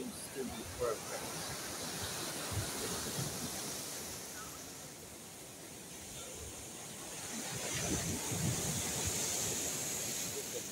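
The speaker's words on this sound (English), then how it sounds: "We're here at the seaside." Seaside surf and wind on a rainy day by a seawall, a steady broad wash of waves with gusty wind rumble against the microphone, swelling louder toward the end.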